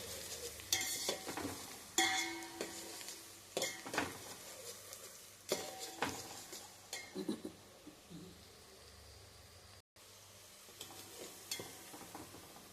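Masala frying and being stirred in a pan for chicken kofta curry, a steady soft sizzle with repeated scraping and clinking of a spoon against the pan at irregular intervals.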